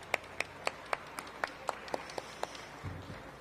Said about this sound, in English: Another round of applause for Edward Atuesta.